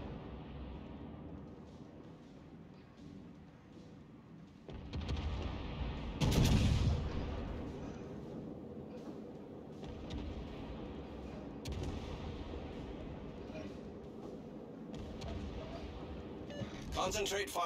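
Heavy naval gunfire in the World of Warships game, a deep booming salvo rising out of a constant engine and sea rumble, with radio-style voices talking over the battle.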